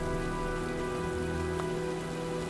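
Storm rain in the video game Heavy Rain, a steady dense hiss of raindrops falling on surfaces, continuous and even, with a low tonal game ambience underneath and no voices.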